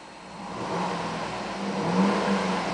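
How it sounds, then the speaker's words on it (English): A 2008 Cadillac Escalade 2WD with its 6.2 liter V8 idles steadily, then revs gently upward with a steady mid-pitched engine hum and whir, rising slightly in loudness toward the end. "I'm going to rev it, so keep an eye on this left-hand dial here."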